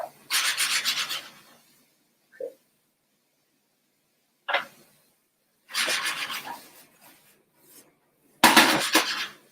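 Mushrooms caramelizing in a pan for a stroganoff, heard as short bursts of bright sizzle and scraping separated by quiet pauses, with a louder, sharper burst near the end.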